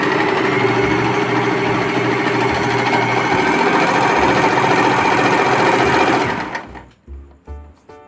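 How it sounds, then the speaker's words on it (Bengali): Usha Janome sewing machine stitching a buttonhole, a loud, close, rapid mechanical whirring chatter that runs steadily, then stops, followed by a few soft clicks. "যেরকম রাখবেন সেরকমই মেশিন সেলাই করবে।"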